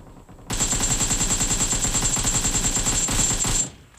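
Sustained automatic gunfire from the mobile shooter PUBG New State, a rapid continuous burst of shots lasting about three seconds, loud and close with no talking.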